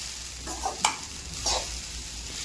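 A sabudana mixture frying in a pan gives a faint, steady sizzle with two or three brief scraping stirs, close but quiet.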